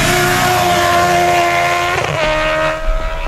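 Race car fitted with a Kawasaki motorcycle engine, screaming loud and steady at high revs nearby, dropping pitch briefly as it brakes and then revving back up.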